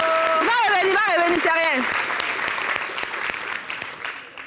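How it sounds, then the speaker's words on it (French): A television studio audience at a summer holiday show claps steadily as someone talks loudly over the start, then the applause carries on alone, thinning and becoming more scattered toward the end. "Ça applaudit."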